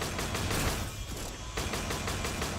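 Rapid bursts of gunfire from the Dum Dum gun in the game Mycopunk, a dense run of repeated shots with a brief lull in the middle, loud and close, with no talk over it.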